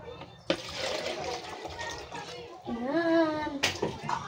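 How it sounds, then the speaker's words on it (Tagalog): Water splashes and gurgles as it is poured into a container, steady and close throughout, with a voice speaking over the pouring and a sharp knock near the end. "ngayon, lagyan na natin siya ng tubig"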